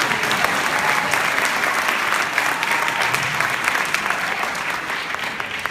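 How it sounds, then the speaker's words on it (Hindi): An audience at a live romantic-song concert applauds loudly and continuously, a dense, steady clapping that fills the room for several seconds. "तो साहब इनके गाने के लिए और मेरे आने के लिए जरा जोरदार तालियां हो जाएं।"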